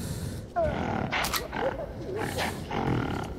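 A creature in the Metro 2033 video game lets out rough, pig-like grunting and snorting roars in several bursts, close and fairly loud over a steady ambient background.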